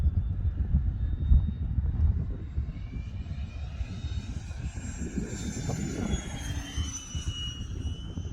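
A 95-inch Depron foam F/A-18C model jet whines overhead on its first flight, its high pitch rising and shifting as it passes, with steady wind rumble underneath.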